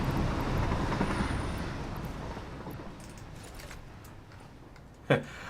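A train in the video game Satisfactory rumbles along with rolling wagon noise that slowly fades as it moves away, ending in a brief sharp clack.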